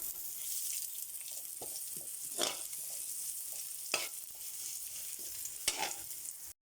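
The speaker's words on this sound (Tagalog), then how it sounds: "Magigisa na po tayo ng ating sarsyadong kamatis para sa isda" Garlic and onion sizzle steadily in hot oil while being sautéed for a Filipino tomato sauce meant for fish. The frying hiss is continuous, with a few sharper stirring scrapes and spatters.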